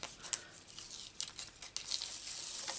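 Double-sided tape is pulled and handled for papercraft card making, giving soft, faint tearing and crinkling sounds in a few short bursts, close and quiet with no talking.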